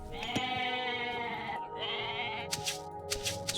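Goats in a strategy video game bleat with wavering, nasal cries during scouting, one long call followed by another, then several short game sound effects, clear and close with no talking.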